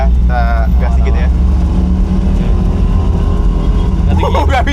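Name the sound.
BMW Isetta engine revving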